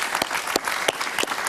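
Studio audience applauding on a Spanish-language talk show, a dense, steady patter of clapping with a few sharper claps standing out, heard alone without talk.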